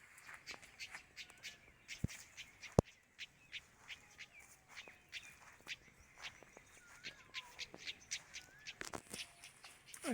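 Crows and other birds call while being fed outdoors, with many short, overlapping caws and chirps scattered at varying distances, fairly faint, with a couple of sharp knocks and light shuffling in between.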